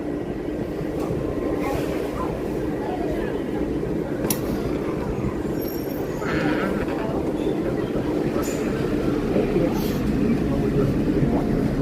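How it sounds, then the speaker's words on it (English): A Walt Disney World monorail glides along its track, with a continuous rumbling, whooshing ride noise heard from inside the car and faint background chatter from passengers. "enjoy the monorail ride, everyone"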